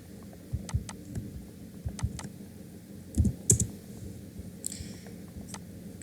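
Computer keyboard keys tapped to type a table name in a document, a few scattered light clicks with short bursts of quick keystrokes, close and fairly quiet, with no speech.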